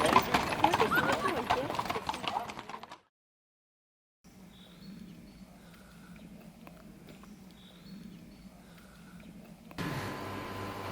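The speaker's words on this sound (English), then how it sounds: "We were pulled around on a horse-drawn carriage the whole time." Horse hooves clip-clop steadily as a horse pulls a carriage on a plains tour at Hortobágy, Hungary, with a louder stretch first, then a silent gap, then quieter hoofbeats and a voice talking.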